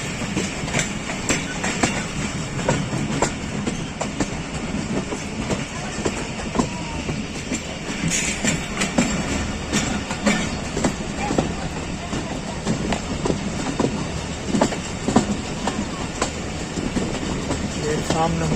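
The Jaffar Express bound for Peshawar rolls along at a station with continuous rumbling and rhythmic clickety-clack of wheels on rails, while voices talk in the background throughout.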